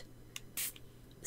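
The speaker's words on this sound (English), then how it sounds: "I'll use a light mist" Two quick hissing spritzes from a spray bottle misting an acrylic painting, one short and one starting at the end, faint and close by with no talking.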